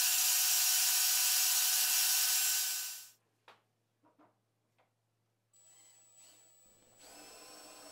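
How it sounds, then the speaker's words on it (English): Drilling into the top of a wooden mallet made from an old Christmas tree. A loud machine roar cuts off, leaving a few quiet clicks and knocks, then a steady, moderate motor whine sets in and runs on without speech. "Now I'm just going to drill into the top here."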